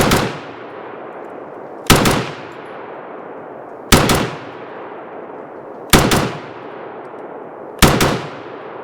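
A CZ Bren 2A2 carbine fires five loud, sharp double taps outdoors, evenly spaced about two seconds apart, each pair of close shots ringing out and decaying into silence.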